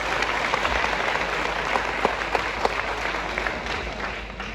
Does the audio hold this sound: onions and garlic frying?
no